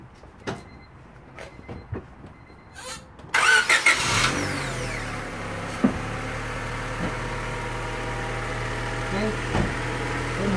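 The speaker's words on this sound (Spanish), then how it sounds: "El motor ya está prendido, ahora ya prende, no hay ningún problema." A 1998 Honda Civic EX that previously would not start cranks briefly, catches and settles into a steady, fairly quiet idle, with a few sharp clicks and knocks around it.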